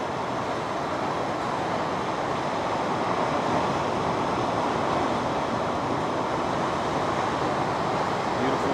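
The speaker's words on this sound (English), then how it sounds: "You can actually hear the water crashing" Ocean waves crash against the base of the Cliffs of Moher, a steady dense roar of surf heard from high above, mixed with wind rushing across the microphone, with no voices.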